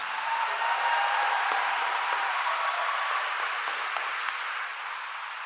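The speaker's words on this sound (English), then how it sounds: "Please join me in a round of applause." Steady, dense applause from a sizeable crowd at a university commencement ceremony, sustained throughout and tapering slightly toward the end.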